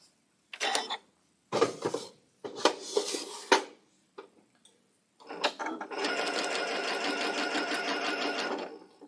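Domestic sewing machine stitching fabric corners together for a pink quilt block, heard in a few short bursts followed by a steady, continuous run of rapid, even stitching, fairly close and moderately loud.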